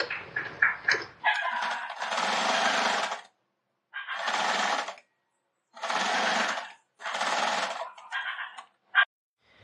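A sewing machine stitching a strip of fabric around a towel runs in several loud bursts of a few seconds each, separated by short silent pauses, with faint handling clicks between runs.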